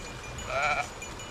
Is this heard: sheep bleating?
yes